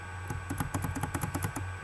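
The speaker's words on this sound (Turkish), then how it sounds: "şu an çok klavye ses çıkabilir çünkü klavye öyle basıyorum ki" Fast, busy computer keyboard typing during a Minecraft session, a rapid irregular clatter of keystrokes close up over a steady low hum, with no talking.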